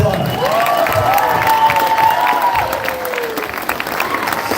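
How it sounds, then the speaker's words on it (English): An audience at a city centennial painting unveiling bursts into applause with cheers and shouted voices over the clapping, sustained and lively for several seconds. "let's give a round of applause"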